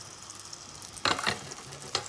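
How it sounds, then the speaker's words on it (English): Olive oil sizzling in a hot pan, a steady low frying hiss broken by a few brighter spits and crackles, close and fairly quiet, with no talking. "Now, get your pan nice and hot. We'll start off with olive oil into the pan."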